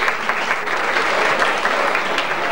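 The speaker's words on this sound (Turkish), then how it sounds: "Alkışların devamını istiyoruz" Audience applause at a traditional December village association evening, a dense steady clapping from a crowd that fills the whole stretch without any talk over it.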